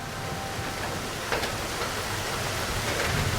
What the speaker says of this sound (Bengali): শুধু বৃষ্টির শব্দ